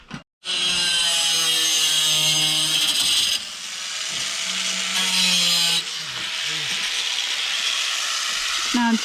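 A saw zips steadily through lumber, trimming the excess along a snapped chalk line. The loud, continuous cutting drone runs for several seconds with a brief dip partway through, and faint voices come in at moments.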